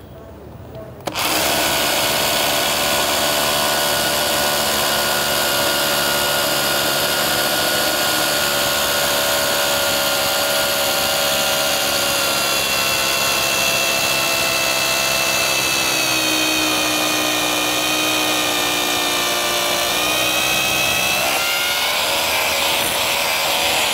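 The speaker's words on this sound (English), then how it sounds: "the tool that I am using today is cordless rotary hammer" Hilti cordless rotary hammer drilling a hole for an anchor: after a brief quiet start, a loud, steady, harsh hammering whine runs continuously for over twenty seconds with a slight pitch shift near the end.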